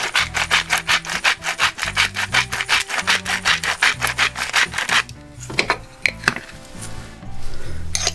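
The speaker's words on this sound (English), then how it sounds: "A little grind of salt." A salt grinder is twisted in quick, rhythmic rasping bursts, loud and close, about twenty strokes in five seconds, followed by a few scattered clicks and softer rubbing.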